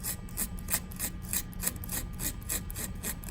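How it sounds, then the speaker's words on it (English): Sandpaper scrubs the surface of a zinc strip in quick, regular back-and-forth strokes, a steady close rasp that continues throughout with no voices. "I'm going to use my sandpaper to clean off the surface of the zinc."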